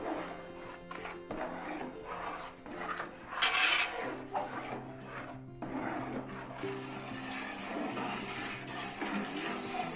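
Jaggery is stirred into cooked lentils in a pot for parippu pradaman, with a spoon scraping and knocking against the pot in irregular clinks and rubs at close range, moderately quiet.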